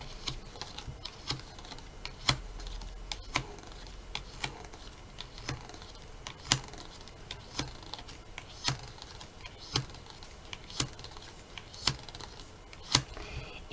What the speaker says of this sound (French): Je coupe 13 cartes